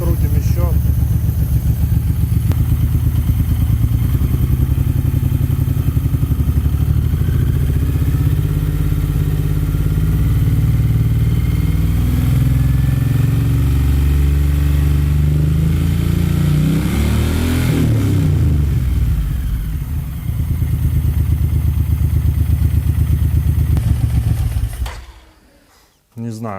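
Suzuki Boulevard M109R motorcycle engine idling during cylinder synchronization, a steady loud low rumble held for most of the span before cutting off near the end.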